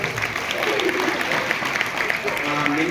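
Audience at a school Teachers' Day event claps in a continuous, fairly close patter that lasts the whole moment, with voices mixed in beneath the applause.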